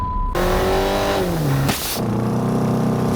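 Stock car engine on nitrous revving hard, a loud close roar whose pitch climbs and then drops, with a brief harsh burst before it settles into a lower rumbling idle; no speech.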